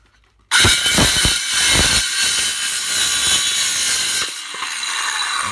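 A Craftsman cordless power tool, fitted with a swapped battery, starts abruptly and runs with a loud, harsh whirring grind, with a few rattling pulses early on, then steadies and eases slightly near the end.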